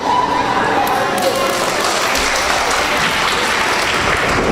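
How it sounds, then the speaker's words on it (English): Loud, close crowd applause and cheering at a live indoor pro wrestling show, a continuous roar of clapping under an excited commentator's voice throughout. "Round of applause."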